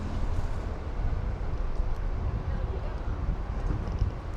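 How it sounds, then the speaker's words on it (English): Strong wind buffeting a microphone outdoors in Welling, London, a dense, continuous low rumble with no breaks. "So it's windy basically every day then. Like, look how strong it is. You can actually hear it in the mic."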